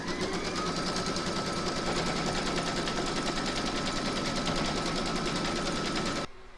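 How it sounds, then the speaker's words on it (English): An embroidery machine stitches a batting placement outline in a steady, rapid mechanical chatter that runs close and loud for several seconds before stopping abruptly. "Then you're going to stitch round number 1, and that's going to give you your batting placement outline."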